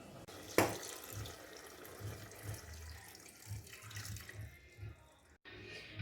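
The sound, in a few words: water poured into pot of cooking beef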